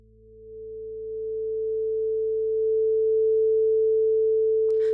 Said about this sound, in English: I'm going to play the red sine wave, which is 440 Hz.